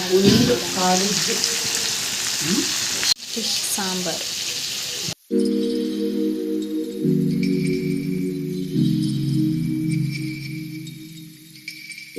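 Fish frying in a pan, a steady hiss and sizzle that cuts off twice before a quieter stretch with a low humming tone, fairly close and with no talk over it.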